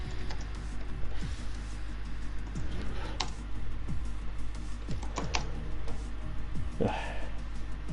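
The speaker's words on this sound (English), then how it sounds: "Whenever I type, I sound angry at my keyboard" Clattering keystrokes on a computer keyboard during an online racing session, a steady run of sharp clicks and taps over a constant low hum, fairly close and continuous throughout.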